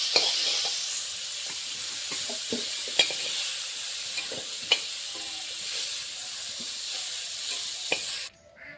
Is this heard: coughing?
no